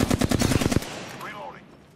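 Rapid automatic gunfire in Apex Legends, a loud close burst of evenly spaced shots lasting under a second, followed by a fading tail.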